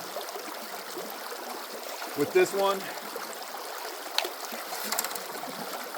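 Steady trickling and gurgling of water running through a gold prospecting sluice, a constant close wash with a few louder splashes and someone speaking briefly over it.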